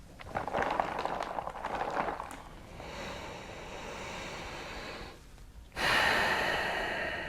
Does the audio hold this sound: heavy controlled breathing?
yes